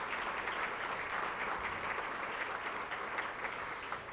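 Morning audience at a healthcare awards event applauds elected officials, a sustained, even roar of many hands clapping, quiet in level and tapering slightly toward the end.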